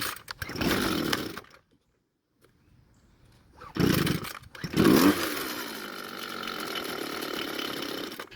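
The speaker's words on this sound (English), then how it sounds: "Well, it started, but after turning the choke off, the engine didn't want to stay running." Small two-stroke string trimmer engine sputtering as it starts, dying off into near silence, then catching again and revving roughly before settling into an uneven running drone.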